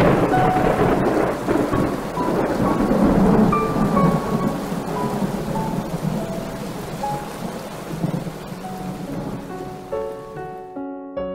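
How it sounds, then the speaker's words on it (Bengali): Thunderstorm with heavy rain: a dense, loud roar of pouring rain with deep rolling thunder, slowly easing toward the end as it thins out. "প্রথমে হালকা বৃষ্টি, তারপর সবাইকে চমকে দিয়ে বজ্র বিদ্যুৎ সহ বৃষ্টি শুরু হলো।"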